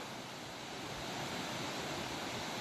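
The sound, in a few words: Bearwallow Falls slide waterfall, water sliding down rock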